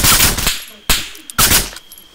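Gunfire in the military shooter Arma 3 comes as a loud opening burst, then two more sharp, separate shots about half a second apart, each trailing off into quiet.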